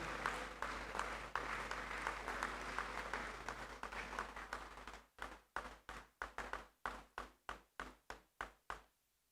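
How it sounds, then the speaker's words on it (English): Audience applause at an alumni lecture, a dense steady clapping that fades after about five seconds into a string of separate, spaced single claps before stopping. "let's give them a round of applause"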